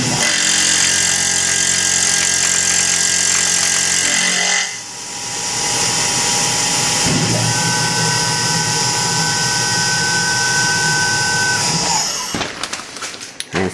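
A Tormach PCNC 1100 CNC mill makes a right-to-left cut with shim stock under its right front foot, giving a loud, steady machining whine with a brief dip near the middle and a change in tone as it ends.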